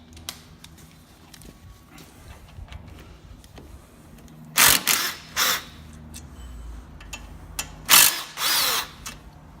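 Power tool with a 12 mm socket removing a brake caliper bolt on a first-generation Honda Insight, two close loud bursts of whirring with ratcheting stops, quiet workshop ambience between.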